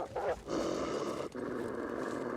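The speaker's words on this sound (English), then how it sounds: "I hear the wolf." Low wolf growl from the video game The Long Dark, a steady rumbling snarl running the whole time over game ambience, with a brief dip partway through.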